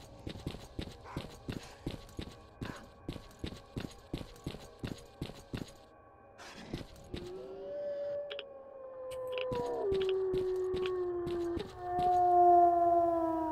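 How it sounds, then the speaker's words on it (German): Dog or wolf howling in the video game S.T.A.L.K.E.R.: Call of Pripyat, a long wavering howl rising after a run of rhythmic footsteps, moderately loud and sustained with no talking. "Hund! Oder Wolf, oder was auch immer du bist."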